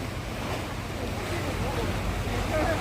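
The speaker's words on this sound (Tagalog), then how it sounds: "Ang lakas na ng alon." Strong sea waves surge and wash continuously with heavy wind noise buffeting the microphone, a steady roaring rush close by, while voices are faintly present underneath.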